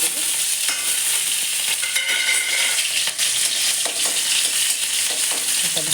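Chili and garlic added to hot oil with black cumin seeds sizzle loudly and steadily, while a utensil stirs in the pan with intermittent scraping clicks. No one speaks.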